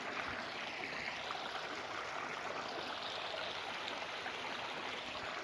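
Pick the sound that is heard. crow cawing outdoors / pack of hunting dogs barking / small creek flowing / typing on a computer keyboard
small creek flowing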